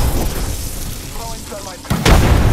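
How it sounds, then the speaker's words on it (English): Frag grenade detonating in Apex Legends, a loud abrupt blast near the end that follows a stretch of noisy in-game rumble and faint voice. "Frag out."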